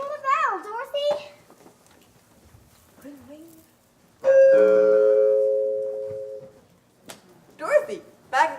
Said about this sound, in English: Ring the bell, Dorothy.